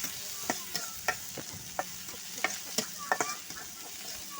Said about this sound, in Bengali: ওদিকে কড়াইতে মরিচ পেঁয়াজ কুচিগুলো দিয়ে দিয়েছি।